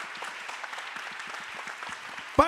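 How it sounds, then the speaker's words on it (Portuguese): Steady audience applause at an international seminar on decent work, a dense patter of many hands holding even throughout, ending in a sudden louder knock or thump. "Muito bom, salva de palmas"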